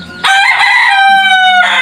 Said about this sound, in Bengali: আর দেখতেই পারতেছেন মুরগিগুলা কতটুকু সুস্থ সবল আছে